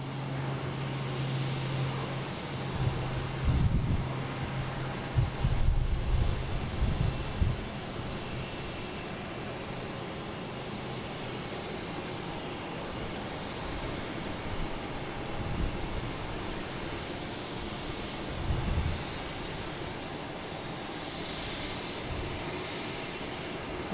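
A Pilatus aircraft departs Boston Logan for Teterboro, its engine a low, distant drone beneath airport ambience, with a few louder rumbling bursts early on and again later.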